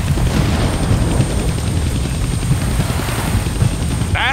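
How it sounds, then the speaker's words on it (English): An attack helicopter in the Deadpool video game fills the scene with a loud, continuous rotor drone and engine rumble, steady and close throughout. "I can't kill that chopper with my guns"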